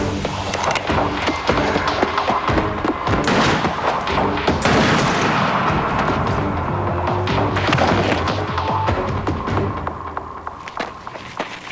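Gunshots ring out in a chaotic outdoor confrontation, a dense run of loud, sharp cracks and booms layered over scuffling and movement, continuing without a break through the scene.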